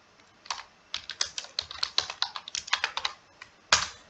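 Typing on a computer keyboard while entering text in Tally ERP 9, a rapid, uneven run of close, crisp key clicks with short pauses and one harder final keystroke.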